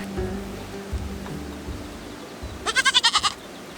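A goat bleats in a quick series of about seven pulsing, wavering calls, fairly close, with quieter low outdoor noise before it in a garden setting.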